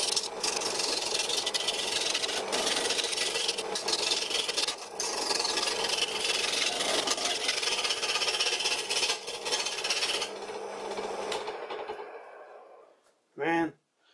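A homemade wooden lathe turning wood at about 1000 RPM gives a continuous loud, rough rasping and rumbling roar with chips flying. It runs steadily for about twelve seconds, then cuts off, leaving a brief short sound near the end.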